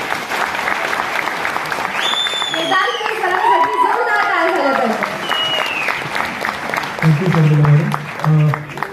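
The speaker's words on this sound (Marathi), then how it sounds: "जोरदार टाळ्या झाला पाहिजे" Loud sustained applause from an audience at an agriculture business meeting, dense clapping with voices and cheering mixed in throughout.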